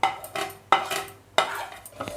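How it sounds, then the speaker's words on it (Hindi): Roasted wheat kheer is stirred in a pot over low heat, with three scraping strokes of a spoon against the pot, close and distinct, and faint bubbling underneath with no talking. "धीमी आंच पर उसको पकाना है, और कंटिन्यूअसली उसको चलाते रहना है।"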